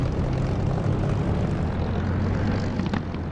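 A steady, loud aircraft engine drone from the DCS flight simulator game, a dense continuous hum with a low tonal throb, unbroken throughout and without voices.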